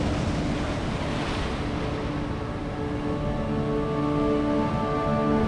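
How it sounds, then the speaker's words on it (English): Powerful ocean surf pounds the shore of a lush island, heard from a boat anchored offshore: a loud, continuous roar of crashing waves mixed with wind rumble, with no voices. "Power of the ocean just beating the crap out of the shore over here"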